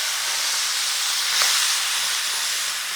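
Cauliflower florets dropped into a hot pan with garlic, shallots and dried shrimp, a loud, steady hissing sizzle that swells briefly midway and carries on without talk.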